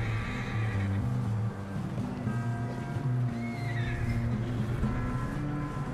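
A horse whinnies in Red Dead Redemption 2, high and wavering, over a constant wash of ambient noise and low tonal hum.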